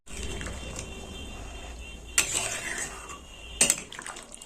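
Spoon clatters against a pot of mutton curry just thinned with water, two sharp scraping knocks standing out over a soft, steady background of stirring and low hum.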